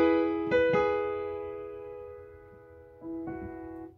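Piano riff played high on the keyboard with an added top note, a few bright struck notes ringing out and slowly decaying, then a fresh chord near the end, clear and close with no talking.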